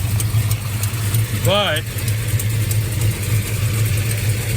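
Big-block 440 V8 in a 1970 Plymouth Fury III, running a 750 carburetor and fuel regulator and carrying an exhaust-leak tick, idles with a deep, even rumble close by. A brief voice and a short rising chirp cut in midway.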